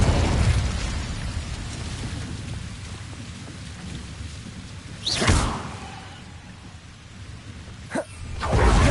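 A Confringo blasting spell goes off in the Hogwarts Legacy video game, two sharp booming bursts a few seconds apart over a constant rain-like hiss of ambient noise.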